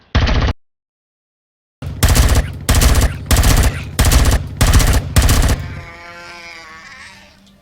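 A rifle fires at slime monsters in Empyrion Galactic Survival: one short burst, a pause, then five loud evenly spaced bursts of automatic gunfire, followed by a fading mechanical ring.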